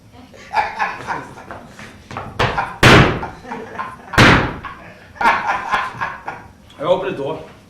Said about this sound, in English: I opened the door.